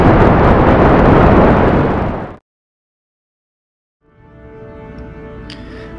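Kerbal Space Program rocket launch: a loud, dense roar of engine thrust that cuts off abruptly into silence, then a fainter rumbling hum with tonal whine returns.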